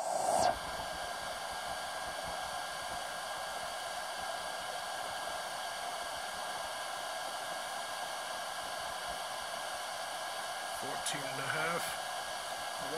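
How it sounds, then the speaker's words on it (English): The cooling fan of a smart battery charger whirring as a steady, hissing airflow that holds fairly even, close and quiet, with a faint click near the start. "You hear the fan getting louder as the amps are going up."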